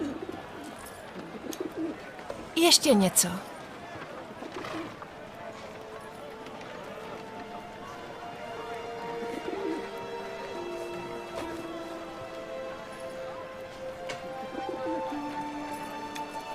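A lame pigeon coos softly in a busy temple marketplace, its low repeated calls running beneath people talking, with a brief louder scuffle of movement near the start.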